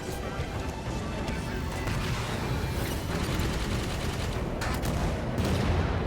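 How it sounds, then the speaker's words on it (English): Sustained gunfire from Halo 5 crackles in dense, rapid bursts with a few sharp mechanical clicks, loud and continuous throughout. "Start shooting these things."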